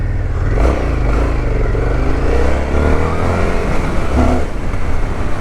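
An Indian FTR 1200 motorcycle engine revs loud and close, a continuous rough roar with rising and falling surges and mechanical clatter, and no voices.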